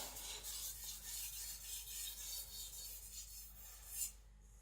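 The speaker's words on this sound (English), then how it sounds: "I'm just gonna sharpen alternating sides" A Sakon Ryuga gyuto knife is stroked across a Naniwa Professional whetstone in steady, rhythmic rasping passes alternating sides, a close, faint scrape repeating about every half second and ending with a slightly louder stroke.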